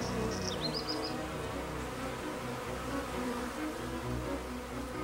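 Honeybees buzz around flowers in a field, a steady, faint, layered hum of many insects close by, with a few bird chirps briefly at the start and no voices.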